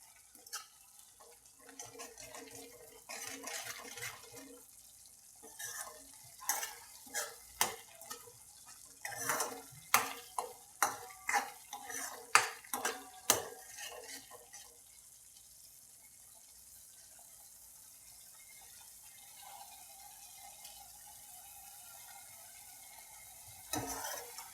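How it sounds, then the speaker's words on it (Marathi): Homemade masala is dry-roasted in a pan until red, with bursts of a spoon scraping and stirring against metal over a faint, quiet sizzle, and the clatter fades out toward the end. "मसाला भाजून घेते मी एकदम चांगलं लाल व्हायपर्यंत"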